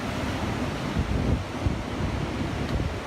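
Stormy ocean surf on a North Carolina beach in hurricane-like weather, with a loud continuous roar of waves and buffeting wind noise on the microphone and no talk.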